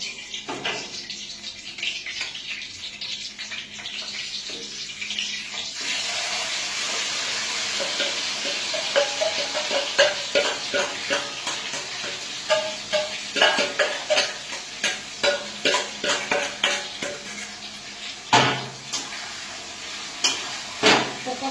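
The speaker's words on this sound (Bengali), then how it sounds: "এবারে ম্যারিনেশন করা যে চিকেনটা রয়েছে এটা এবারে দিয়ে একটু মানে আঁচটাকে বেশি দিয়ে এবার আমি দিয়ে দিচ্ছি চিকেনটা" Marinated chicken frying over high heat in a pan, a steady sizzle joined midway by repeated scraping and stirring strokes that come in clustered bursts, close and fairly loud.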